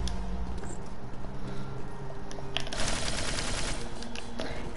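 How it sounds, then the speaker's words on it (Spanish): A dense, continuous machine-gun-like rattle fills a God of War video game scene, loud and close over a rumbling game background throughout. "Es como una ametralladora que se suena."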